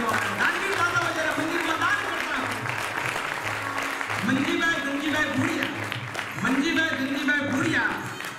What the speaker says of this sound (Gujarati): તાળી પણ તાળી આવી જબરી તાળી